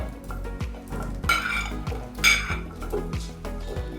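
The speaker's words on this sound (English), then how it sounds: "Now we're gonna add the sweet potatoes." Sweet potato pieces tumble into a hot oven dish of tandoori chicken, giving a run of close clinks and scrapes of metal and cookware with soft thuds, repeating unevenly over a few seconds.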